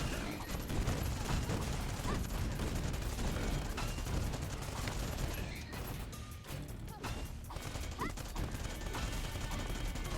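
Turrets blasting away at enemies in the early-access game Cinderia: a dense, continuous barrage of rapid gunfire, crashes and impacts, loud and sustained throughout, with a voice speaking briefly over the din.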